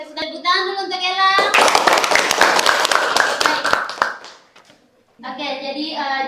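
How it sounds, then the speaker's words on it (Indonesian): A classroom of children claps for a student during a micro-teaching lesson, a brisk burst of hand claps lasting about three seconds, framed by someone speaking before and after. "Tepuk tangan dulu untuk Ella."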